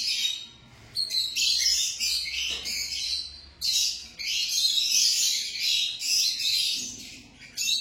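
Lovebirds in an aviary giving bursts of shrill chirping and chattering that come and go in waves, close and fairly loud, with no talk.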